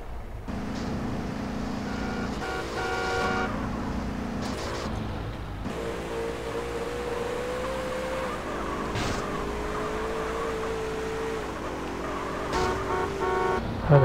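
A car is stolen in the game GTA San Andreas: loud engine revving and driving noise runs throughout, with horn toots, shifting gears and skids over background game sounds.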